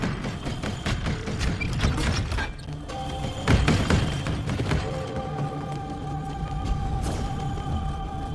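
Mechanical robot enemies shifting and clanking in the survival game Soulmask, a dense steady bed of metallic thumps, clatters and grinding that runs continuously at moderate loudness with no voices.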